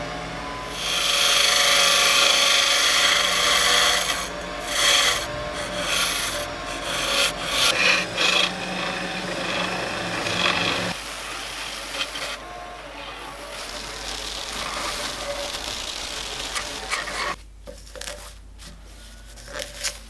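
Wood on a Hafco WL-14V lathe being turned and shaped at around 1500 rpm, giving a continuous loud rasping scrape that rises and falls as the gouge cuts, with a few brief pauses near the end and no talk.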